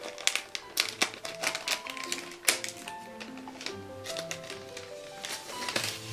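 A small holographic plastic sachet from a toy terrarium kit is handled and torn open close up, giving a run of crisp crinkles, taps and sharp snaps in uneven bursts.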